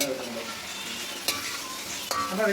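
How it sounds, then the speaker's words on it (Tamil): Chopped tomatoes being stirred in a frying pan while making chicken fry, with a soft steady sizzle and two sharp scraping clacks of the spoon against the pan, no talking. "நான் கிண்டிக்கிறா"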